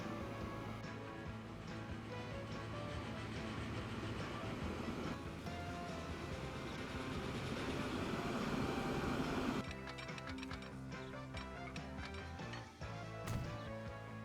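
A Big Boy steam locomotive runs in Transport Fever 2, a continuous mechanical rumble with faint rhythmic rail clatter that shifts character partway through, steady and moderately quiet.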